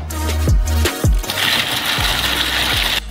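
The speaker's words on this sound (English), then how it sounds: "We cover everything up with a lid and install in the mixer." A kitchen mixer grinds sugar, cocoa and salt into a paste with a loud whirring motor broken by repeated heavy thuds and knocks as the mass tumbles inside.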